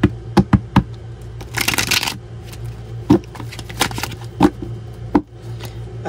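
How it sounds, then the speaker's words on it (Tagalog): Playing cards are shuffled in a quick riffle, followed by scattered taps and flicks of cards handled on a table; no one speaks. "Palasahin ko lang po mabuti ang ating mga baraha."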